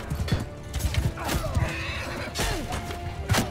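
A horse whinnies loudly during a battle in Mount & Blade II: Bannerlord, with clip-clopping hoofbeats and scattered clashing combat noise around it.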